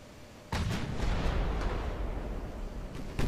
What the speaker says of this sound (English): it's the big guns that do the damage, like here